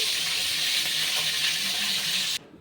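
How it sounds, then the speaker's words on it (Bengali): Katla (rohu-type carp) fish pieces frying in hot oil after being turned over, a steady dense sizzle close by that cuts off abruptly near the end. "মাছগুলো কিন্তু এক পিঠ ভাজা হয়ে গেছে, অপর পাশ উল্টে দিচ্ছি।"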